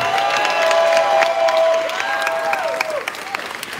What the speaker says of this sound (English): Now give Ken a big round of applause.